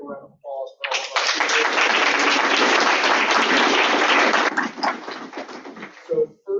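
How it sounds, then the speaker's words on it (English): Audience applause at a social justice forum in Roanoke County, Virginia: a loud, steady wave of clapping fills about five seconds, then tapers off, with a brief voice at the start and end. "So please give a round of applause for all of our"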